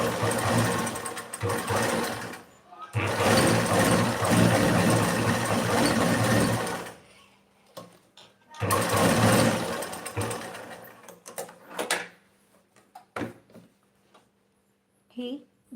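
A sewing machine stitching blouse sleeves runs in loud bursts of several seconds with pauses between them, and someone talks in the quieter gaps.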